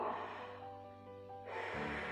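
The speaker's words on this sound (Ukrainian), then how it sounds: "давайте зробимо невеличку дихальну гімнастику і зробимо маленький вдох" A breath drawn in during a breathing exercise in a children's reading lesson, a soft close airy inhale, with a low tonal hum partway through, then rushing breath noise resuming.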